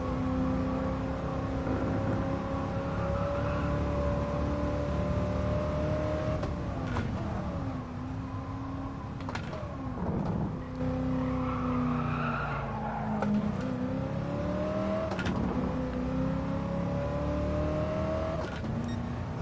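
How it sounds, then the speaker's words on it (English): A V8 American muscle car's engine in GT Sport drones loud and steady, rising and falling through revs and gear shifts, with tires squealing and skidding through the corners. "much as I love the V8 sound"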